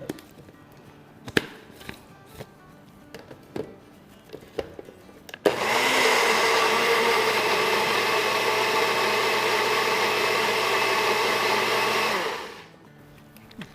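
A kitchen blender whirs for about seven seconds, mixing four tablespoons of yogurt into a thick chutney served with shami kababs, loud and steady. Scattered clicks and handling noises come before it, and it winds down at the end.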